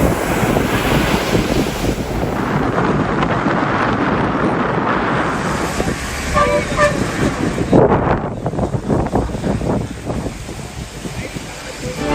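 Strong gusting cyclone winds roar across the microphone while sea waves crash and surge beneath it near the Pamban bridge, Rameswaram, a loud, continuous storm din with a faint voice briefly audible.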